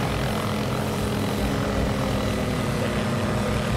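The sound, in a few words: helicopter flying in video game Garry's Mod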